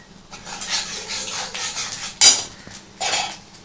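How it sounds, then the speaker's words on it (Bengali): Nigella seeds hit hot oil in a pan, giving a close crackling sizzle broken by the scrape and clink of a utensil against metal, with one sharp clank near the middle. "এবারে এর মধ্যে দিয়ে দেবো কিছুটা কালো জিরে ফোড়ন।"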